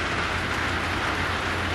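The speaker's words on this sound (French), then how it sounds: "Ouais, tout mouillé, il pleut." Steady rain falls at a family campsite in Magog, a dense, even hiss of drops with no talking.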